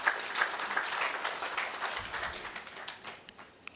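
Applause from a conference audience at an energy-sector event, a moderate ragged clatter of many hands that holds steady for a few seconds and slowly thins toward the end.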